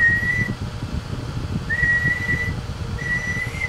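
Three short, steady whistled tones repeat at even intervals over a constant rumbling hiss, thin and somewhat distant, as a person whistles into the microphone of an early Maverick 250 10-meter radio amplifier.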